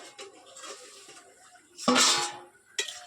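A metal lid clatters as it is lifted off a pot of simmering vegetable curry, a loud rattling scrape midway, then a short, sharp clink near the end against quiet kitchen background.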